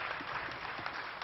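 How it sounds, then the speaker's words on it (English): Scientists and space enthusiasts applaud together after Chandrayaan 3 separates from its launch rocket, a brief, steady wash of crowd clapping at moderate level. "scientists and space enthusiasts gathered to witness history and broke into applause"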